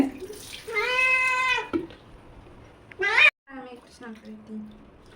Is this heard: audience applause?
no